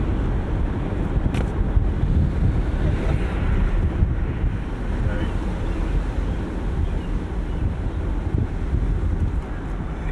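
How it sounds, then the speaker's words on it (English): Constant loud wind roar and buffeting from inside a 1989 Mercedes-Benz 560SL cruising along, broadband and unbroken, with no distinct engine sound. "It's really silent driving along, other than some wind noise."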